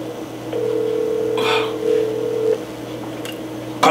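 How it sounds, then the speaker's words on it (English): Telephone ringback tone heard while calling someone: a single steady electronic tone lasting about two seconds over a constant low hum, with faint rustling before and a click at the end, no speech. "Pick up this phone, Abigail, please."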